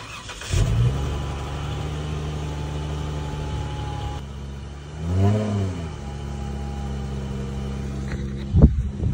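An old work truck engine idles with a deep, rough rumble, then revs up in two short swells, one smooth and one sharper, before settling back to idle.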